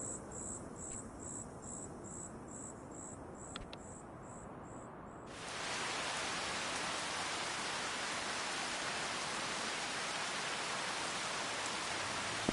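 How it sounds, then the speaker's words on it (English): Rain in Farming Simulator 25, played on PS5 on the Elm Creek map. Quiet cricket chirps at night give way to a sudden, steady wash of rainfall that continues to the end. "Sounds like it's raining."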